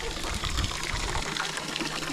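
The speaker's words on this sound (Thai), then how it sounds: "น้ำก๊อกเย็นเนาะน้ำอันนี้มีตลอดอ่ะบ่แห้งที่น้ำเนี่ย" Cold tap water gushes steadily from a faucet in a hillside village in northern Laos, a close, continuous rushing splash that stays loud throughout.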